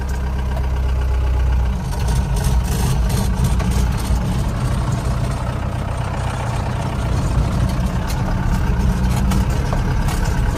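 A village farm motor, likely a pump motor at a field well, runs steadily and fairly loud with a constant low drone and no pauses; no one speaks.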